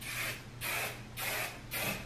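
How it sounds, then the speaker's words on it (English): Texturizing hair spray hisses from an aerosol can onto hair in four short, evenly spaced bursts, close and steady with no talk. "Then I spray it with this because it gives it like a nice hold"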